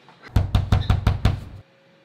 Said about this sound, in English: Who the hell banging on my door like they the police?